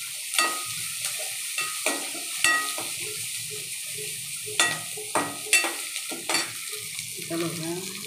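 Onion frying in hot oil with mustard seeds, cumin and curry leaves, a constant sizzle broken by sharp spatula scrapes and stirs at an irregular pace, close and without talk.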